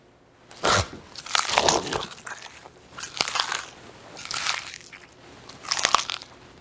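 Crunchy Halloween bat wings being bitten and chewed, several loud close crunching bites in bursts, each followed by a short pause, with no talking.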